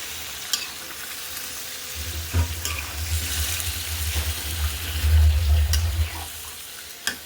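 Duck meat with chuijhal and fried onions being stirred and fried in a pan: a continuous close sizzle with a low rumble and repeated scraping strokes.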